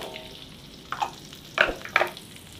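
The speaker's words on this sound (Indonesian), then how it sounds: "selanjutnya kita akan menggoreng bawang merah dan bawang putihnya guys" Shallots and garlic frying together in oil for a Madura-style satay peanut sauce, a soft background sizzle broken by a few brief, crackling bursts as the pan is stirred.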